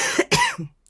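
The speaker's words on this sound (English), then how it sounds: "Sorry, coughing this morning." A single short, close cough bursts out in two quick hacks, loud and dry, with nothing else around it.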